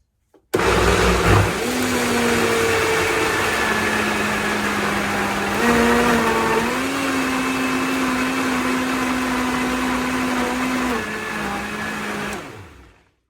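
Blender whirring through pizza sauce with two tablespoons of olive oil, a loud steady motor hum that shifts pitch slightly as the load changes, then winds down and stops, no voices.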